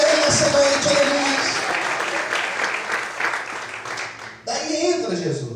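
A church congregation claps and cheers in a dense, sustained burst, loud and close. A voice rises over the noise near the end.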